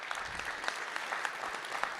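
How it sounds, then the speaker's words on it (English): An awards audience applauds the nominees, a fairly quiet, steady patter of many hands with a few sharper individual claps standing out. "if you could give them a round of applause."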